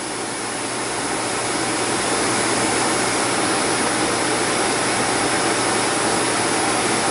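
A canister vacuum cleaner runs continuously at a loud, steady roar during a seal test, with no talking over it.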